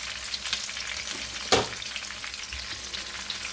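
Ukoy fritters frying in hot oil, a continuous bright sizzle crackling steadily throughout, with one sharp louder pop or clatter in the middle and no voices.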